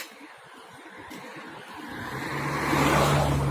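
A car passes close by on a road, its engine and tire rumble swelling from a faint hum into a loud, near roar with a steady low drone over the last second or so.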